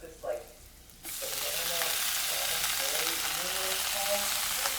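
Spinach with garlic and onion hitting a hot pan, a sudden loud sizzle bursting in after a quiet second and holding steady as a close, dense frying hiss.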